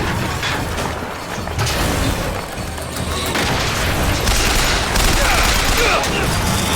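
Turret gunfire in the shooter BioShock Infinite, loud sustained bursts of rapid shots mixed with booms and crashes.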